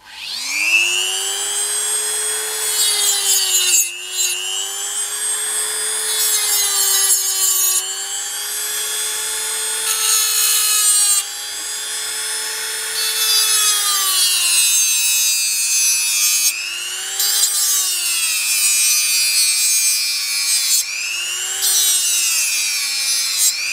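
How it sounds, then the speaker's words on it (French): A metal file rasps back and forth across a sheet-metal grip plate for a Röhm pistol, a steady, close, loud scraping with a strong whining, tonal edge that pauses briefly between strokes, with no talk over it. "Je paye un coup de lime"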